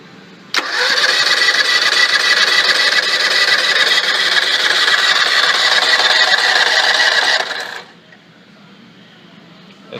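A car engine cranks briefly and catches after its battery has been recharged by an automatic charger, then runs loud and steady for several seconds before cutting off abruptly.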